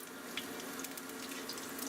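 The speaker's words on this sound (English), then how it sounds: "I'm going to add 2 cups of water and get all that goodness off the bottom" Water pours into a hot pressure cooker pot holding browned Asian BBQ ribs, a steady faint hissing rush with light sizzle, close and without talk.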